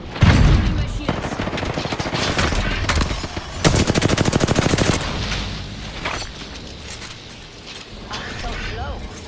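Rapid automatic gunfire in a shooter video game, bursts of dense repeated shots with one sustained loud volley in the middle, mixed with game effects and voice callouts.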